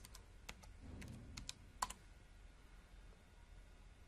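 Quiet typing on a computer keyboard, a scattered burst of light, near key clicks with one sharper tap, then fading into low room hiss.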